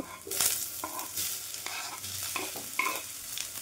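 Chopped onion and green chillies fry in hot oil for soya chunk atta noodles. A continuous close sizzle is broken by repeated scraping and clanking stirs in the pan, with no talk.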